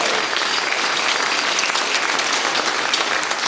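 A theater audience applauds loudly and steadily, a dense wash of clapping from many hands without any break.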